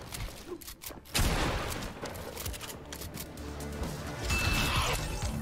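Sideways rifle fire in Fortnite, a dense burst of rapid gunshots with crashing impacts, loud and continuous after a short lead-in, with no voices over it.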